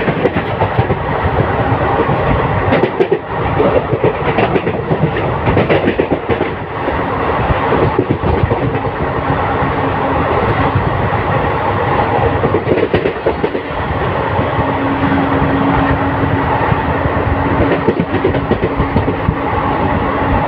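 Interior rumble of an ICF coach on the Teesta Torsa Express running flat out at speed, a loud steady roar with rhythmic clickety-clack of wheels over rail joints throughout, no voices.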